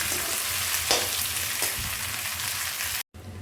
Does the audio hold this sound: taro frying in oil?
yes